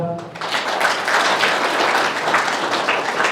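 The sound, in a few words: audience applause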